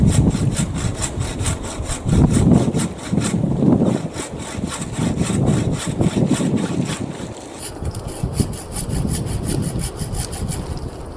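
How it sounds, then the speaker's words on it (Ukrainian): A hand saw cuts through branches while garden trees are pruned in winter, producing loud, close, rhythmic back-and-forth rasping strokes that pause briefly and then resume. "Ось чоловік обрізує садок."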